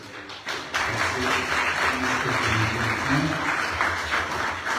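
Audience applause at a philosophy seminar, starting abruptly and holding steady as a dense, even wash of clapping, with voices murmuring faintly underneath.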